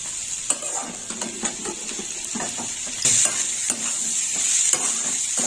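Khoya and green peas sizzle in a wok as they are sautéed, with repeated scraping and clinking stirs over a steady frying hiss.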